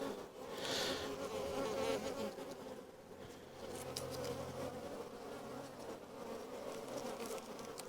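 A dense, continuous buzzing of many honeybees close by, humming steadily with small swells as individual bees pass near.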